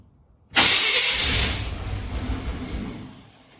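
An old Chevy 350 V8 that has sat for years cranks and tries to start without catching for lack of fuel, a loud sustained burst of starter churning and sputtering that slowly fades, with no talking.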